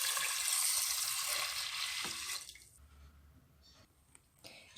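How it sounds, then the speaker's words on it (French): Rice poaching in a pot of salted water while a Moroccan salad is prepared: a bubbling, hissing rush of water fills the first two seconds, then drops to a quiet, faint simmer, with no talking. "je commence par pocher le riz dans l'eau salée"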